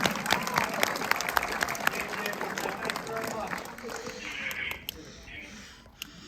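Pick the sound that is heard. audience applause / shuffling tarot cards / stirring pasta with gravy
audience applause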